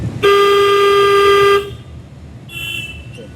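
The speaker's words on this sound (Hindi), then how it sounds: "हॉर्न दीजिए, हॉर्न" A single long, loud car horn honk during a driving lesson, held for over a second, followed by a quieter, softer tone and faint engine rumble.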